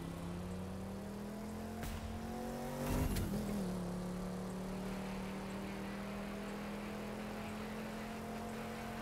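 A steady car engine in the racing video game The Crew 2 drones at a constant pitch, with a brief revving burst partway through, fairly quiet throughout.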